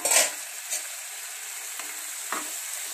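Ridge gourd curry with dried mango powder is stirred in a pan, giving a continuous hissing sizzle with a few soft scraping strokes, close and with no speech.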